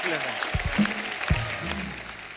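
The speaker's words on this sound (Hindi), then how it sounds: "जोरदार तालियां हो जाए हमारे चारों मेहमानों के लिए।" A studio audience applauds the four guests on a Hindi comedy talk show. The clapping is steady and moderately loud, with a voice talking over it.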